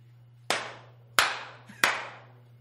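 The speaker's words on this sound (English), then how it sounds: "All right, just 3 claps." Three sharp hand claps spaced roughly evenly apart, each a crisp slap with a short decay, over a steady low hum in a quiet room.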